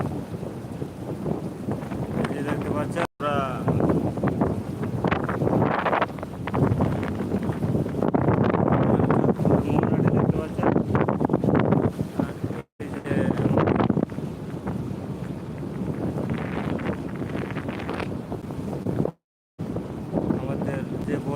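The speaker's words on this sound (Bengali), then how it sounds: "এখানে এখন প্রচুর বাতাস এবং প্রচণ্ড গতিতে বাতাস বইতেছে" Strong wind roars and buffets the microphone on a boat amid big waves, loud and continuous with brief dropouts, while someone talks over it throughout.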